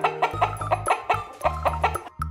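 A hen clucking in quick repeated bursts, close and fairly loud, with short rhythmic calls and little pause between them.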